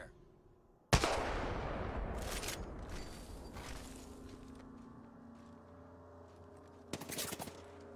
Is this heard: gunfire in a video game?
yes